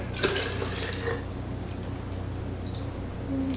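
Water is poured back out of a philodendron pot after overwatering, a soft trickling splash up close, then quieter dripping.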